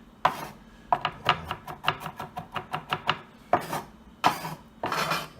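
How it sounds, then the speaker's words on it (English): A knife chops fresh garlic on a cutting board: about a dozen quick, crisp strokes in a steady rhythm, then a few slower, heavier chops, close and clear with no talking. "begin to chop your garlic for some fresh garlic"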